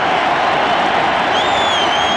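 Baseball stadium crowd at the 1989 World Series rising to its feet, a dense, loud roar of cheering and noise sustained throughout, with a faint whistle-like tone toward the end and no clear speech.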